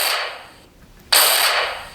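A blaster sound effect plays through a bare speaker with no enclosure, giving two bright, thin, hissy zaps separated by a short gap, the second sharper and louder.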